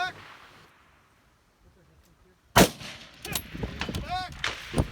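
Two gunshots fired during a barrel shooting run: a sudden loud crack after a quiet stretch, followed by further sharp reports and some talking.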